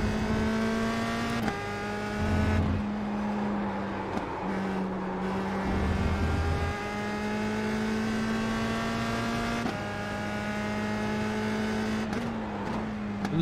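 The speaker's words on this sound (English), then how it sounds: "Love the backfire." Single-seater race car in a racing video game, engine droning loud and close as it climbs through gears, with a few short low pops from backfires when the throttle lifts.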